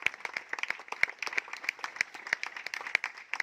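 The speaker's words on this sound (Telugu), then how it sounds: "గట్టిగా చప్పట్లు కొట్టి ప్రభువుని స్తుతిద్దాం" A church congregation at a Christmas service claps loudly in praise, dense overlapping handclaps forming a steady, lively wave of applause with no voices over it.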